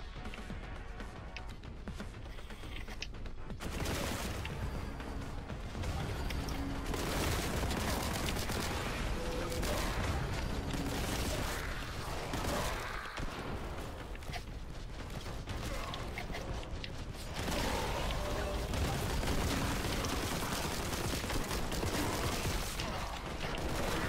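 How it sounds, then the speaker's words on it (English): Bolt gun fire in Warhammer 40,000: Boltgun, a dense, continuous barrage of loud gunshots and mechanical clatter running nearly the whole length with no talk. "Maybe we need a good old bolt gun to shoot from a distance."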